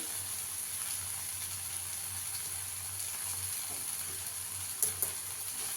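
Chopped green chillies sizzling in oil in a pan for a masala omelette: a soft, even hiss with a faint low hum beneath, a couple of brief clinks near the end, no speech.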